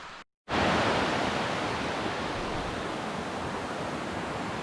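A flowing creek near a hiking trail to Rapidan Camp rushes in a steady, dense broadband wash after a brief moment of silence, loud and close, with no voices.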